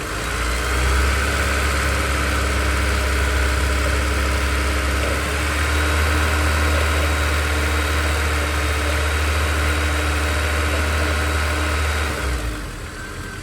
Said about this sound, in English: Let's bring the RPMs up a little bit.